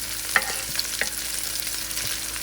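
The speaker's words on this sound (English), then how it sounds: "So here I'm frying up the scallion right now." Scallion sizzles in hot oil in a pan for curry chicken wings, a steady close frying hiss with a few soft stirring clicks and no talking.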